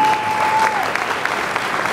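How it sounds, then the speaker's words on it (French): An audience at an event applauds the volunteers, a steady wash of many hands clapping at moderate distance, with a faint voice briefly audible at the start. "On les applaudit, s'il vous plaît."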